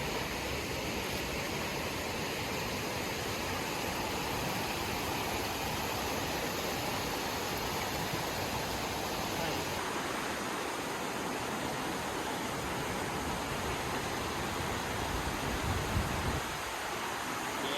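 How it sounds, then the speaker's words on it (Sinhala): Ikili Ella, a tall waterfall swollen with high water after rain, roars as a steady, broad, continuous rush of falling water that stays close and loud throughout with no voices. "ඉකිලි ඇල්ල කියලා කියන්නේ නම තියෙන්නේ මේක."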